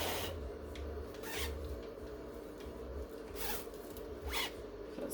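A zipper on a freshly sublimated, still-hot baby bundle set is pulled in several short rasping strokes, close and quiet with no talking.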